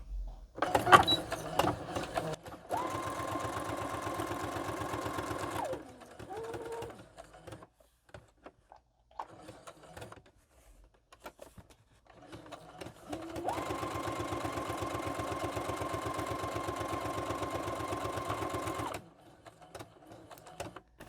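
A sewing machine runs a straight stitch in two long bursts of rapid, even needle clatter with a motor whine, separated by a quiet pause with small handling noises, close by.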